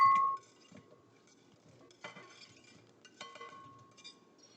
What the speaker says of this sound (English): now I have my cucumber all sliced, and I will put it into my bowl